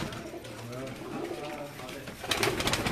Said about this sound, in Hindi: ये सियालकोट का कबूतर है